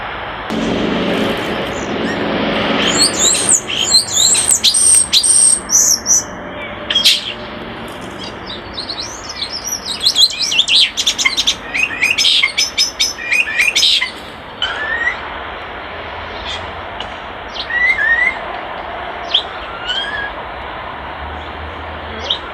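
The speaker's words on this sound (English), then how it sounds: "Every bird has its own unique call." Several birds chirping and singing outdoors, with bright tweets and trills repeating throughout over a steady background hiss.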